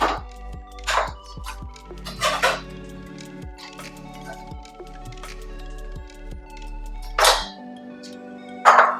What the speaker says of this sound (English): So cut it into thin slices.